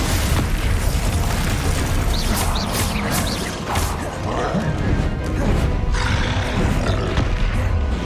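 Loud, dense crashing blasts from Confringo fire spells in the Hogwarts Legacy video game, with several sharp bursts layered over constant battle noise from start to finish.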